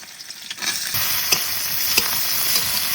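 Onions, cumin seeds and dried and slit green chilies sizzle steadily in hot oil, a dense close hiss with a few brief stirring scrapes, no voices.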